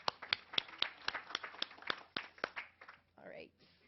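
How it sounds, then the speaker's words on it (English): Applause from a live audience at a talk, a run of sharp claps over the first two and a half seconds that thins and fades, with a voice coming in near the end. "everyone give yourselves a round of applause for being here"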